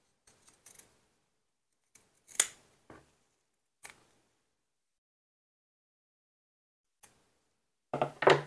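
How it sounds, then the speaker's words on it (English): Scissors snip along fabric edges during a sewing project, a scattering of short, crisp cuts spread out over several seconds, with a denser burst of snipping near the end; no talking. "now I'm going to trim the bottom edges"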